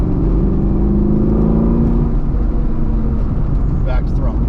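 A BMR-equipped sixth-generation Chevrolet Camaro engine pulls hard on a road course, a loud steady drone rising in pitch with a brief shift near the end. Talk runs over it.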